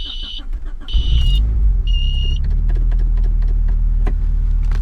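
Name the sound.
car engine starting and running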